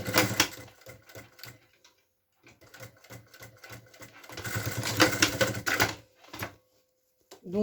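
A sewing machine stitches a topstitch along a beach bag in close, rapid bursts of rhythmic clatter, stopping and starting with short pauses between runs.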